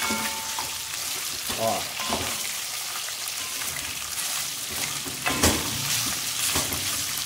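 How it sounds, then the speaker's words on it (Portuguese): Steady crackling sizzle of seasoned chicken pieces frying in a pan for galinhada, dense and continuous with a brief voice and a few louder pops near the end. "Já tá dando aquela fritadinha aqui."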